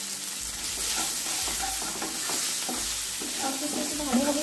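Spices being stirred into bitter gourd curry in a frying pan, a steady sizzle of frying with scraping stir strokes and soft clinks of the spoon close by, continuous with no talk.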